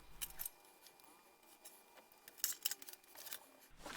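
Scissors cut off the excess material of a tool bag insert in a quiet workshop, giving a few short, faint snips and crisp cutting sounds.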